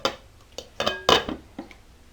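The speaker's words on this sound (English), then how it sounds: "So I'm going to put the lid on" A lid goes onto a cooking pot, several light metallic clinks and taps in quick succession, one brighter ringing clink in the middle, close and otherwise quiet.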